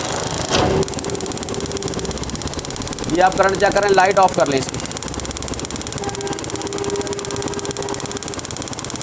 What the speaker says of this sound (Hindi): यहाँ पे बाइक को स्टार्ट करके चेक कर लेते हैं।